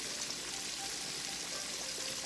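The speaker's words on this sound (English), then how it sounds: "Y'all hear that sizzle?" Southern-style pork chops frying in a pan, giving a dense, continuous close sizzle and crackle at an even level throughout, with no voices.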